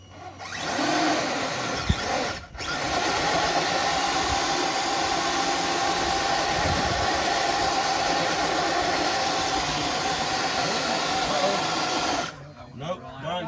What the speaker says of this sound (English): Next up, Austin driving the redcat